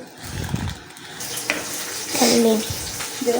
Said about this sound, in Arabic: الفلفل اهو في الزيت. تمام. بحمره الاول.